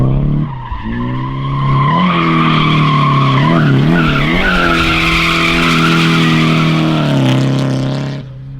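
A car drifting on a track with a clutch kick, its tires squealing loudly and continuously under a revving engine whose pitch wavers and climbs before the skid fades at the end.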